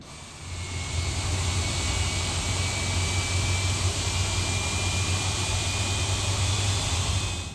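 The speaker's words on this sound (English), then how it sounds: "So with the engine started" An Aerosoft A330 jet engine runs in a flight simulator, a steady roaring whine with a low hum and a thin high tone, rising in over the first second and then holding loud and constant.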